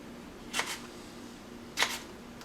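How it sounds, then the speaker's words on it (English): A knife slices jalapeno peppers on a cutting board: two crisp, separate cuts about a second apart, close and clear over a faint steady room hum. "cutting up your jalapenos is really easy. I just cut that nose off, all right, and then just cut about every, say, 1/4 of an inch."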